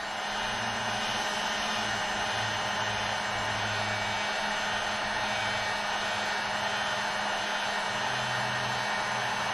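A heat gun blows continuously with a steady, breathy roar while heating the frame of a Harley-Davidson Street Glide motorcycle being prepped for powder coating. The sound is uninterrupted throughout.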